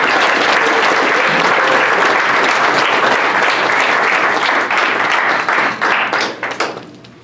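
A ceremony audience applauds an honoree with loud, dense clapping that holds steady, then thins into scattered claps and fades out near the end.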